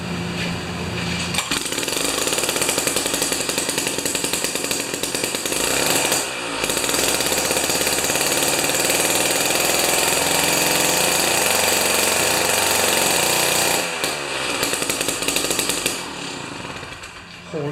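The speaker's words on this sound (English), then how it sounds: "We got Gord's Jiffy 30 running" Jiffy 30 two-stroke ice auger engine runs loud and buzzing at high speed, with brief dips in the roar around six and fourteen seconds before it picks back up, close and without speech.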